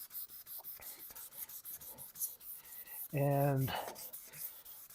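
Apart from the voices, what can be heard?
wet sanding a foggy car headlight by hand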